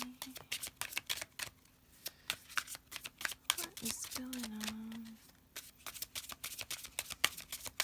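Rapid crisp riffling of a tarot card deck, repeating in quick bursts throughout, with a voice briefly speaking partway through.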